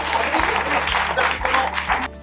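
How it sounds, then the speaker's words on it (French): An audience at a 2023 amateur theatre festival in Saint-Pierre-d'Oléron claps steadily through the whole moment. The dense, even applause has faint voices and low thumps beneath it. "allez, on applaudit"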